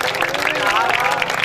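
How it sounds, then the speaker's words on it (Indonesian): Brief, dense clapping from a crowd at a village football trophy ceremony, close and steady, with voices murmuring underneath. "Tepuk tangan."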